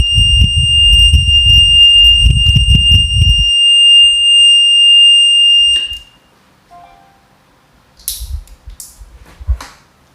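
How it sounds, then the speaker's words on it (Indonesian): Alinco DR-135 MK III radio anti-theft alarm shrieking with a piercing, steady high tone for several seconds over speech, then stopping abruptly, followed by faint handling clicks and scrapes. "Ketika ini terlepas dari ini, maka bunyi alarmnya sangat kencang sekali sampai memekikkan telinga."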